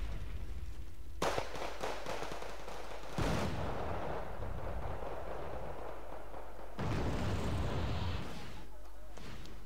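Weapons fire in the Wargame Red Dragon battle game, with sharp bursts and booming volleys breaking out at intervals over a dense ongoing rumble of combat, loud and sustained, with some voice faintly underneath.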